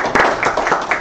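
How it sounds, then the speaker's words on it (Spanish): A short burst of audience applause for Davina at a talk event, dense clapping that is close and lively but lasts only about a second. "Muchas aplausos para Davina"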